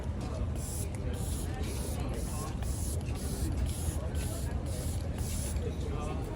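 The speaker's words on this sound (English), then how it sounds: "I have the setting spray. I like the fine mist ones." A fine-mist makeup setting spray is pumped over and over, giving a quick, even run of short airy spritzes, close and clear.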